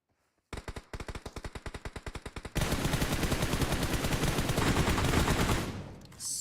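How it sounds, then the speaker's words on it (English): Rapid gunfire in a battle royale video game: a rhythmic string of single shots, then a dense continuous burst of automatic fire that fades at the end, loud and close with no talk. "with some shots and no hit markers"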